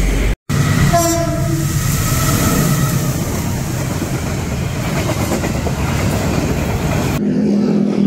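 A train rolls past close to a railway track beside a roadside meatball stall, with a loud, steady rumble and rattle throughout and a short horn blast near the start.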